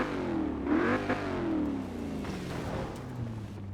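A Holden Commodore Group A with a 5-liter engine revving in Forza Horizon 4, a close, steady engine drone that rises and falls in pitch across a few seconds.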